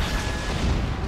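A deep, rumbling boom of an explosion in the video game Just Cause 3, heavy low-end and sustained briefly, with no voices.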